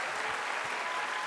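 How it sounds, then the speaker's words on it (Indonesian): A television talk-show studio audience applauds the military commander and police chief guests, a dense, steady wash of clapping that stays loud and even for a moment. "kita berikan tepuk tangan untuk Panglima dan Kapolri"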